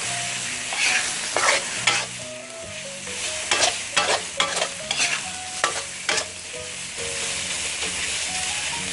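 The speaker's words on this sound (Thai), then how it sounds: "มาได้แล้วก็เอาหมูลงนะคะ" Pork sizzles loudly in a hot pan, broken by repeated scraping stirs of a spatula in an uneven rhythm, stir-fried for a Thai Isan curry-paste and long-bean dish.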